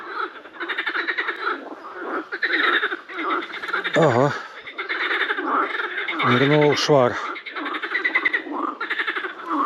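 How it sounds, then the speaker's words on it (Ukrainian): Loud, rapid frog croaking in rattling bursts, close by at the water's edge during float fishing in late May, with someone speaking over it. "Жаби сміються."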